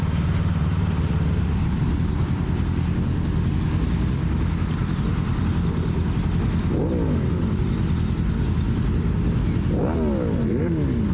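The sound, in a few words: loud motorcycle engine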